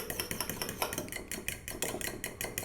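A whisk beats curd or yogurt smooth in a bowl for raita, making rapid, rhythmic clinking and scraping strokes, close and fairly soft.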